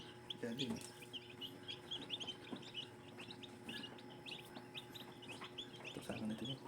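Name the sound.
newly hatched gamefowl chicks peeping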